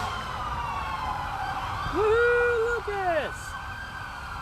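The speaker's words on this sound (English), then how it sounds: "the sirens are going off" Emergency vehicle siren wails at a cancer-survivor celebration parade for a boy, rising and sweeping loudly for about two seconds over steady crowd and traffic noise while people cheer and talk nearby.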